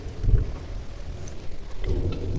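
Thunderstorm outdoors with steady rain and low rumbling thunder swells, faint and distant, no voices.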